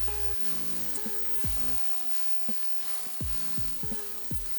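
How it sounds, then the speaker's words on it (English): A steak sears in a hot pan with a constant close sizzle and scattered sharp pops of spitting fat, no voices over it. "I'm gonna go instantly and put my first steak in."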